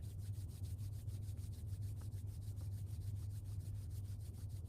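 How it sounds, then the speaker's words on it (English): Hands rub briskly back and forth in a quiet room, a fast regular swishing friction sound repeating steadily over a low hum, with no talking. "Rub your hands together."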